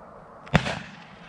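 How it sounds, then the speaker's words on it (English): A single sharp shotgun report at a pheasant during a driven game shoot, one loud crack with a short echoing tail, heard alone. "because there was two shots at it"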